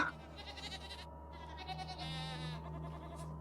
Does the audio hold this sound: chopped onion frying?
no